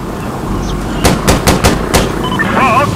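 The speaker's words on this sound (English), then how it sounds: "they're shooting at us" Gunfire in the shooter game Insurgency Sandstorm: five or six loud, sharp shots in an uneven burst, clearly close by, with low game ambience underneath and a faint whistling tone near the end.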